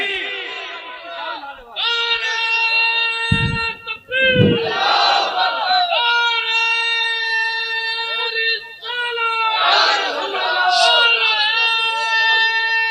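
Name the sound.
crowd answering the Takbir slogan chant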